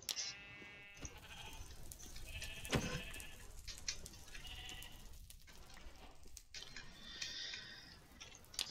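Sheep bleat in the video game Minecraft among other in-game sounds, with a clear bleat at the start and fainter bleating and game noises continuing underneath.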